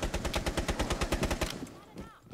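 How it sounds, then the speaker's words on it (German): Rapid automatic gunfire in Rainbow Six Siege, shooting down a drone in a steady burst of evenly spaced shots, loud and close, stopping after about a second and a half, followed by faint clatter. "Eine Drohne mit 40 Schuss geholt."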